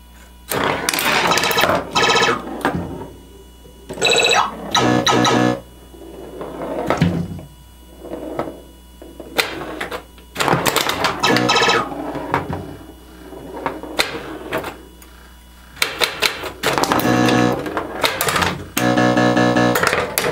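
An Atari Airborne Avengers pinball machine in play, with bursts of clacking flippers, knocking solenoids and ringing chimes coming in loud uneven clusters separated by brief quieter gaps.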